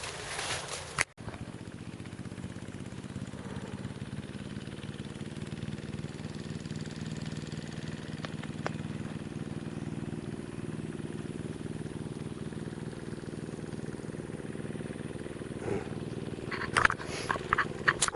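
A motorbike engine idles and runs steadily out in the hilly interior of Sumbawa, Indonesia, a constant mid-pitched purr with a few faint knocks and clicks near the end.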